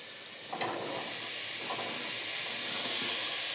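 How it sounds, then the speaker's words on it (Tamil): Beans, carrot and potato tossed into a hot pan for sautéing, a brief clatter followed by a steady hissing sizzle that holds close and even to the end. "அதையும் போட்டு நல்லா ஒரு வதக்குவோம்."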